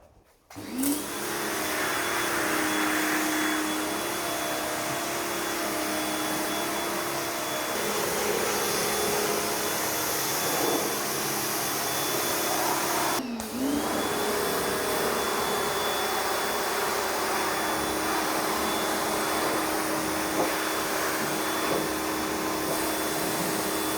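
Salty Captain Drip Dry car dryer blower fan roaring up close in a steady, loud whoosh with a constant motor whine. It runs unbroken for over twenty seconds, dipping briefly in pitch once midway before holding steady again.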